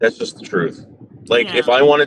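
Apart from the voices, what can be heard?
No everyday noises stand out.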